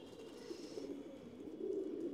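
Pigeons in a home loft collection, including a fancy breed, give low soft coos that repeat steadily and build slightly louder toward the end, fairly close and without talk.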